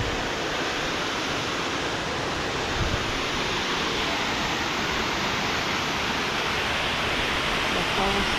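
Can-umantad Falls in Bohol, Philippines, a waterfall heard as a loud, steady, broad roar of rushing water that holds even throughout, with no talk over it.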